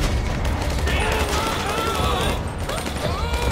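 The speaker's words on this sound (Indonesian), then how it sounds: "Johnny nembak ke arah mana tuh?" Gunfire in GTA 5 zombie survival play: rapid bursts of shots crackle at moderate loudness over a steady rumble, with people talking across much of it.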